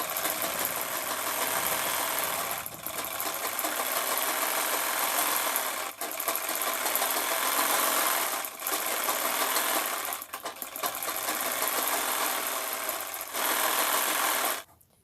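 A sewing machine runs in long, steady stitching bursts with short pauses between them while sewing a kantha cover, close up and alone with no talk.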